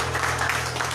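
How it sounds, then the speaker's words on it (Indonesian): A church congregation claps in welcome for first-time visitors, a dense, even patter of applause over a steady low hum, moderately loud throughout. "Boleh kita kasih tepuk tangan yang meriah begitu"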